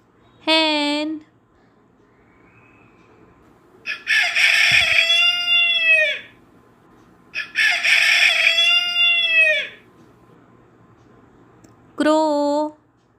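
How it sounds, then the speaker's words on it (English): A rooster crows loudly twice in long, drawn-out calls, with shorter, sharp fowl calls at the start and end and quiet gaps between them. "Hen,"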